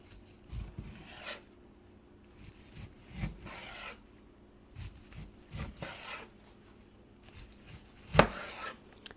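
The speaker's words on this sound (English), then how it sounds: "I'm going to take one of them and cut it into chunks and lay it out on my board" A knife cuts London broil beef into chunks on a board in a series of separate close strokes. Soft scrapes and thuds come at uneven intervals, with a sharp knock near the end.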